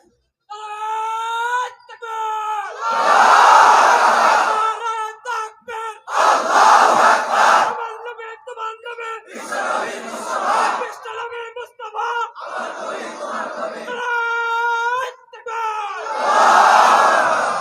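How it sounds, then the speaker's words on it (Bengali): A large crowd at an Islamic gathering shouts the takbir in loud, repeated surging chants, each long roar rising after a leader's call, several waves in a row filling the space. "মাশাআল্লাহ, এখন সুন্দর একটা তাকবীর হচ্ছে"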